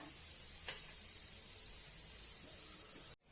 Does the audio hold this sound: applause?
no